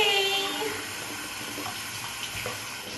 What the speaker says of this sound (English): I never wash my hair in the bathroom sink, but today, this is what I'm doing.